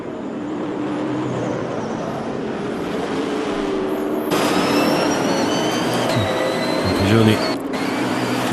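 Onboard sound from Bertolini's racing car in the 2011 International Superstars series: a loud, continuous engine drone that rises in pitch as it accelerates, with a commentator talking over it.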